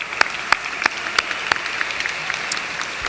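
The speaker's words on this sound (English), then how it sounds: "Give me a round of applause." Scattered claps ring out, a handful of sharp hand slaps spaced irregularly over a steady background hiss, more like sparse clapping than full applause.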